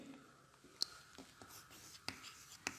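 Pen drawing a sugar ring structure by hand on paper, soft scratchy strokes with a few sharper taps, faint and close.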